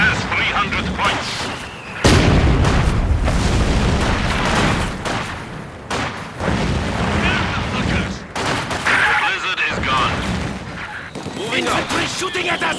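Heavy battlefield gunfire in Company of Heroes 2, a World War II strategy game: dense rifle and machine-gun bursts with artillery booms that roll on almost without pause, loud and close, with voices calling out over the din.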